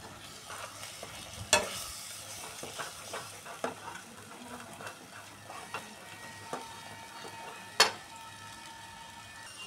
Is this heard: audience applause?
no